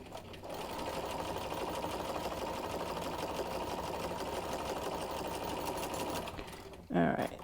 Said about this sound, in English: I'm going to just start stitching the second one down too.